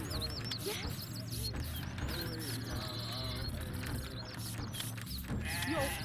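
Goats in the 2000 video game Cultures bleat repeatedly over a low ambient game soundscape, several wavering cries overlapping at moderate volume, with a few faint bird-like calls mixed in.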